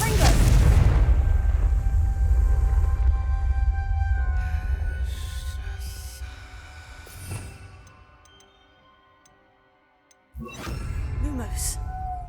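A Confringo spell explosion in the video game Hogwarts Legacy bursts loudly at the start and rumbles off slowly, with game effects and brief chimes following.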